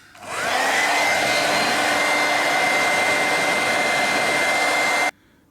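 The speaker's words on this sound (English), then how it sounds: "hairdryer." A hair dryer whirs up and blows steadily at close range on heat shrink tubing over motorcycle tail light wiring, with a constant high hum for about five seconds, then cuts off abruptly.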